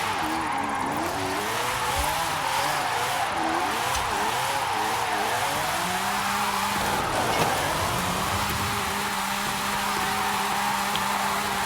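A 2005 MG XPower SV-R with a 1437hp rear-wheel-drive drift tune in a video game, its engine droning and climbing steadily through the revs with a wavering pitch, accompanied by continuous tire and road noise throughout.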